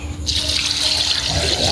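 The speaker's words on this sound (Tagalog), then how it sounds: "At lagyan po natin ng tubig." Water runs steadily from a tap into a pot for chicken soup with garlic, a loud, continuous close-up rush that starts abruptly and keeps flowing.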